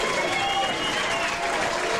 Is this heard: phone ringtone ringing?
no